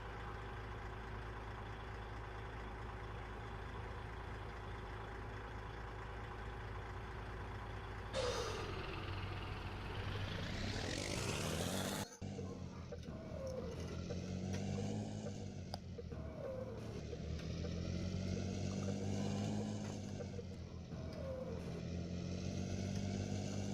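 Truck driving in Euro Truck Simulator 2, a steady engine hum that builds into a rising rev through the gears, followed by a sharp hiss and changing engine tones as the truck keeps moving, with no voices.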